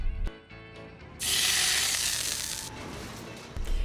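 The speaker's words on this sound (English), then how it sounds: "Sizzling bacon is used for the brakes of a big truck." A steady, bright sizzling hiss of frying bacon rises suddenly, holds for over a second, then fades, with faint clicks before and after.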